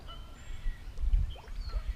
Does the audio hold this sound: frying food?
no